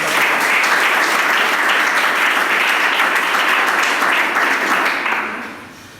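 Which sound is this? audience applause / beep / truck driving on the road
audience applause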